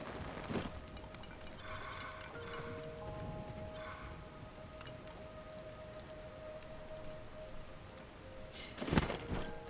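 Steady rain in Zelda: Tears of the Kingdom hisses continuously for several seconds at moderate volume, with a couple of sharper splashing thumps near the start and a louder crack near the end.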